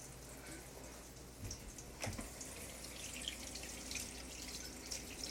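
Tap water runs steadily into a sink while a cooking pan is rinsed out, a soft continuous close stream with a few brief clunks of the pan.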